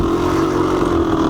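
A Honda CR500 two-stroke motorcycle engine runs steady and close with a droning, buzzy tone.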